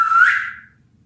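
A world champion beatboxer imitates a whistle with his voice, producing one bright, high sliding tone that swells and then fades out within a second, loud and alone.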